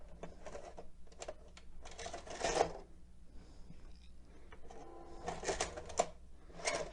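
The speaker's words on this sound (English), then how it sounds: "So I'm going to hit the eject button here on the front." A 1985 JCPenney Hi-Fi stereo VCR, model 5075, runs its tape eject mechanism, giving a close series of mechanical clicks, whirring and clunks, with two louder bursts of clatter as the cassette carriage moves.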